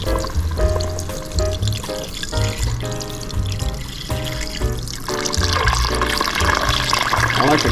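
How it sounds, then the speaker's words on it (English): Water pours steadily from a container into a pot holding a huge beef roast, a continuous splashing gush that grows fuller toward the end, loud and close with no talk over it. "just pour water on it until it's just covered"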